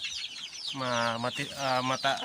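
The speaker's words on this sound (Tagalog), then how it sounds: "Pagkita ko sa inyo ang mga manok dito, mga Shamu Asil." Shamo Aseel chickens at a poultry yard give two drawn-out, loud, throaty clucking calls close by, with no talk over them.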